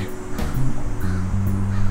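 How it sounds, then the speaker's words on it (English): A crow caws several times outdoors, each call short, coarse and close, over a steady ambient hum with faint steady tones beneath, and no one speaking. "There's a crow in the background."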